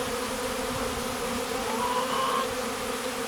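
Dense, steady buzzing of a secondary honeybee swarm outdoors fills the air continuously, loud and close, with no voices.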